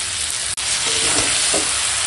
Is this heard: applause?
no